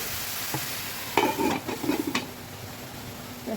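Mung dal jol bora curry being stirred in a pan: a few scraping, clattering strokes of a spoon through wet food over a low background hiss, fairly close, no voices.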